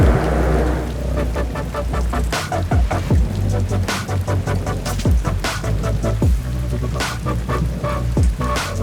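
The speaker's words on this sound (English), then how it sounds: "It's still raining here, but that's not going to stop us." Rain falls outside a motorsport esports arena at Hockenheim, a steady wash of drops pattering on surfaces with sharper splashes and occasional deep low rumbles, continuous and fairly loud with no speech.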